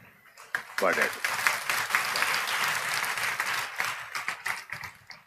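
A church congregation claps sparingly, a soft patter of scattered hands starting after a short pause and continuing steadily at moderate loudness, with a voice speaking over the clapping.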